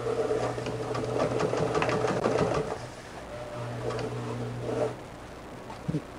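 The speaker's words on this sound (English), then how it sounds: "I'm just sewing right in the middle of the bias tape" A sewing machine stitches bias tape onto a beginner's quilt, running in steady mechanical bursts close by with a short pause midway and a small clack near the end; no one speaks.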